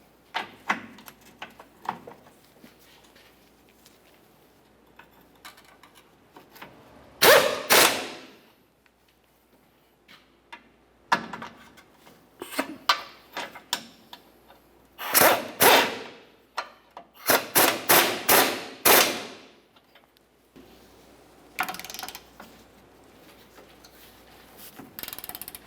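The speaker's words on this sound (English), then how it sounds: "We'll go ahead and snug each of them and then torque them to" A ratchet snugs the transmission mount bolts on a 2001-2005 Ford Explorer Sport Trac in quick bursts of sharp clicking, separated by quieter pauses, close and without talk.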